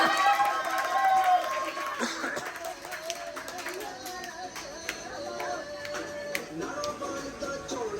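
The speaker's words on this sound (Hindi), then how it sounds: "वाह तालियां" Children at an Eid party clap and cheer in a lively crowd, with scattered hand claps and excited voices over background chatter and music-like tones, fairly close.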